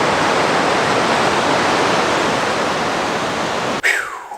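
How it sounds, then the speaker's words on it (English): Steady rain falling outdoors in mountain scenery near the village of Monjo, a dense continuous hiss that cuts off abruptly near the end into a quieter ambience. "the rain is still raining now, but it's not torrential now"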